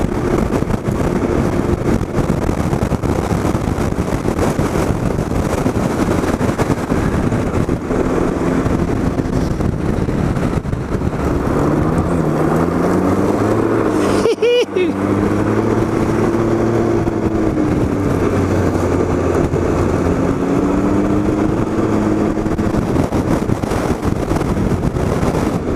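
A 2022 Can-Am Ryker Rally runs along a groomed gravel road in North Manawatu, New Zealand, with a steady, close engine drone and rising and falling revs, half buried under heavy wind roar and tire crunch.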